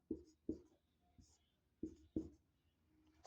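Pen or chalk writing during a Class 10 physics lesson on refraction of light: quiet, close strokes in separate bursts, two quick marks, a pause, then two more, with soft speech in the background.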